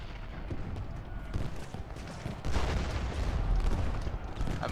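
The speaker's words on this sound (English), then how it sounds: "Union cannons." Union cannon fire in the Civil War strategy game Ultimate General Gettysburg, a dense, continuous rumble of overlapping booms and volleys at steady loudness, swelling heavier in the second half.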